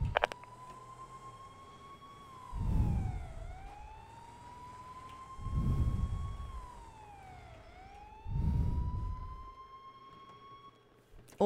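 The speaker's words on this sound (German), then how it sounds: "Also ich höre nur eine Sirene." A GTA roleplay video game siren wails, rising and falling in long slow sweeps, with low engine-like rumbles surging three times beneath it.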